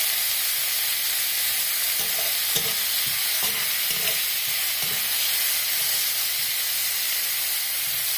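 Puti fish frying with spring onion leaves in a pan, a constant loud sizzle and hiss with a series of spatula scrapes and stirs through the middle.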